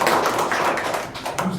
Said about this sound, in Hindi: वेरी गुड, ताली बजाओ।